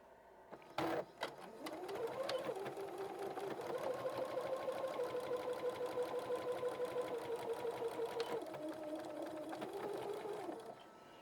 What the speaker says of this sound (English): what we call chain stitching, and this allows me to not remove anything from my sewing machine